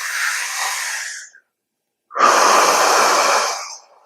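Two deep, close breaths: a long airy exhale, a brief silent pause, then a louder, fuller breath, each lasting over a second.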